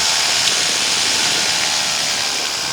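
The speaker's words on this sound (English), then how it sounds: "checking my engine. It's running." A paramotor engine runs steadily and loud in flight, a continuous even mechanical drone with no pauses, close and dominating everything else.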